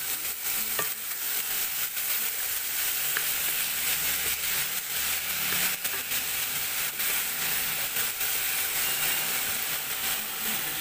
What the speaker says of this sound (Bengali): এবারে এতে আমি পেঁপে আর আলুটা দিয়ে দেব।